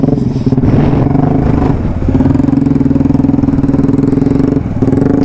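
A motorbike labours along a rough road at a flyover construction site in Ayodhya, its engine loud and close with a steady throbbing idle and a brief rev, along with some clatter.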